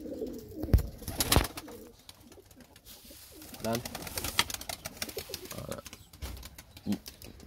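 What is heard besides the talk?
pigeons cooing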